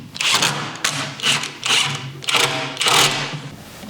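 A power driver sinks four screws into a wooden farmhouse end table carcass, giving five or so loud, close whirring bursts with short pauses between them.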